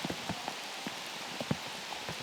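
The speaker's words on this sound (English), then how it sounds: "that's in some of the heaviest rain I have played in a very long time" Heavy rain falls during a professional disc golf round at the world championships, a dense, steady hiss with scattered close drops and taps pattering throughout.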